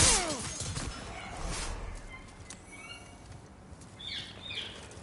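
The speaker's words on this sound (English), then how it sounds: "I have pet birds who just love to be in the conversation" Pet birds chirp faintly in an indoor room, with scattered high twittering calls strongest near the end over a steady low background murmur.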